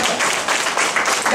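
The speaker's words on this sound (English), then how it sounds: "let's give them a round of applause." A church congregation applauds veterans with steady, dense clapping that fills the room, loud and continuous throughout.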